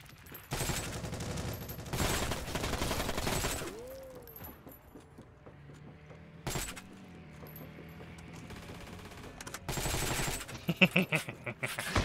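Machine gun fire in the Heroes & Generals war shooter: loud sustained bursts of automatic fire broken by quieter gaps with mechanical sounds, then a final run of sharp, ragged shots.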